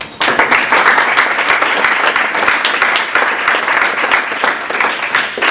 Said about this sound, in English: So please give a round of applause to all the main participants.